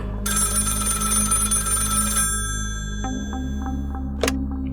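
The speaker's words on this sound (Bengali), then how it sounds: "হঠাৎ টেলিফোন বেজে উঠল" A telephone bell rings steadily and loudly for about two seconds, then stops, leaving a low hum with a few faint clicks and a brief sharp tick near the end; no one speaks.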